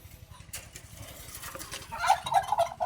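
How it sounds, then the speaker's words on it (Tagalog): Pet ducks, one hunting around for its eggs, call out in a run of nasal, honking cries that grow louder and more frequent toward the end, close by with no talking. "Ayun o, tignan nyo naman yung isang bibi natin dun, mukhang hinahanap niya yung kanyang mga itlog."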